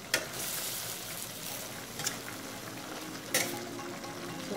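Chicken pieces fry in a pan for chicken Alfredo pasta, giving a continuous, even sizzle with a few sharper spatters or stirring clinks. The sizzle stays close and steady, with no talking.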